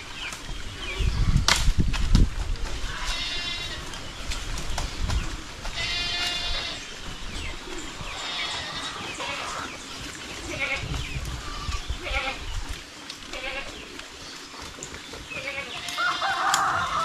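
Goats bleat on a farm in a series of wavering, nasal calls, some loud and close and others farther off, over a busy backdrop of other livestock and fowl noise.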